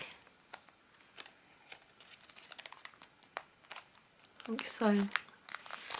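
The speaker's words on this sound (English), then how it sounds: "grab it like this and then mountain fold" Paper is creased and folded for a catamaran flower origami piece, soft crinkling and tapping taps building to a louder crumple near the end, with a person briefly speaking.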